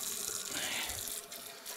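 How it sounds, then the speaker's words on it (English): Hot water runs from a tap into a sink or basin used for washing an embroidery block, a steady gushing splash that changes slightly in tone as the level rises, close by and without talk. "We'll fill it back up with hot water"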